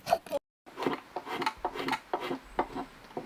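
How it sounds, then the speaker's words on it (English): Spokeshave shaving the corners of a wooden kuksa cup, a rapid series of short, close scraping strokes with a brief silent gap near the start, quiet overall and with no speech. "I'm using the spoke shave now, so that was finished by the side axe."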